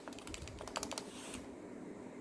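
Typing on a Topre Type Heaven 45g keyboard, an older electrostatic capacitive model: a quick, close run of soft, muted keystrokes that thins out toward the end, with no voices.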